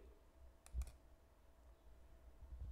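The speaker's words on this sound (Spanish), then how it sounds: "hago un clic" A single computer mouse click under Windows 11, a short sharp tick against quiet room tone with no talking.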